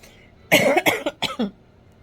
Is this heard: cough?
yes